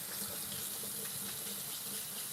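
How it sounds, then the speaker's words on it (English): Grapes being rinsed in a colander under a kitchen tap, a continuous close hiss of running water splashing steadily without pause. "You're going to put the grapes into the colander, okay? You're going to rinse them"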